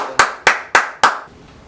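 Four crisp hand claps at an even, quick pace ring out close and loud, followed by a short quiet tail.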